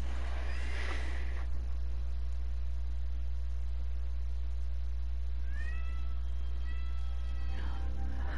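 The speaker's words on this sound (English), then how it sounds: "So that's a very needy kitty." A needy cat in a video game meows a few times in short high calls near the end, over a constant loud low hum from the game's background.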